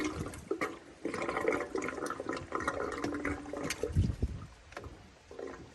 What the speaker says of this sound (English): you can hear that water sloshing around in there since we opened this up